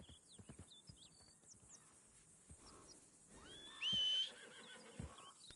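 Horses whinny in a video game, a high drawn-out neigh rising loudly near the four-second mark among scattered clattering sounds and faint background noise.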